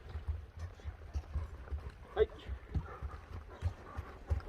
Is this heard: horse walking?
yes